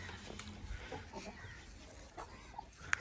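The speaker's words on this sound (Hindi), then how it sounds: "माशाल्लाह से मुर्गियाँ देखें हमारी चारा इंजॉय कर रही हैं" Chickens eating fodder on a farm with goats, soft scattered clucks close by over a faint rustling background, ending in one sharp brief call.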